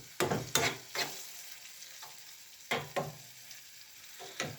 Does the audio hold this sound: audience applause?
no